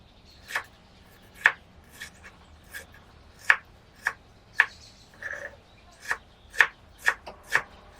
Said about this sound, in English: Then cut the tomatoes into small cubes.